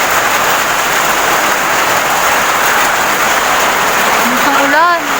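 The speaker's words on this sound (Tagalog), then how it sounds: "Ang ulan. Huwag sanang kukulog." Steady, dense rain hissing continuously throughout, with a brief whistling tone rising near the end.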